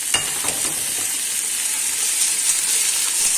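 Onions, garlic and ginger sauté in hot oil with glutinous rice just added, a steady close sizzle and hiss with a few light stirring taps, no voices.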